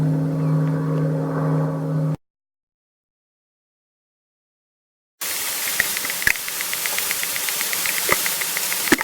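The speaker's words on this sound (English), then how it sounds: "Man-made sound of a boat motor." A boat motor recorded underwater in Lake Champlain gives a steady hissing drone with a rapid regular ticking pulse, starting after a short stretch of low humming and a pause of silence.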